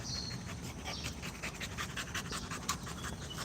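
Dog panting rapidly and steadily at close range during play, a continuous rhythmic breathy pulse with no speech.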